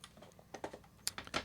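A computer keyboard being knocked, giving a quick scatter of close, sharp key clatters and bumps that grow louder toward the end, with no talking.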